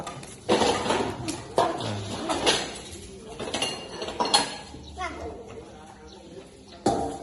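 A young Buddhist novice monk washes dishes and pots, with scattered metallic clinks and clatters of pans and utensils. Faint voices murmur in the background.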